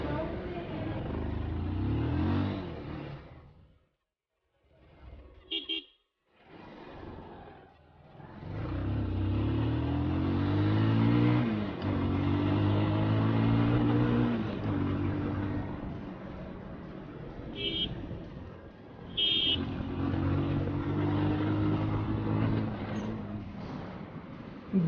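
A motorbike ridden home through hot midday sun on a half-hour trip: a steady engine drone with rising and falling revs, a quiet break partway through, then the motor pulling strongly again, close and loud.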